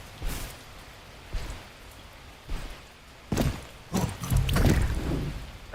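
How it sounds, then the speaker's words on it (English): Rain in a video game, a soft steady patter with recurring louder splashy surges and thumps that build toward the end. "Nice rain effect."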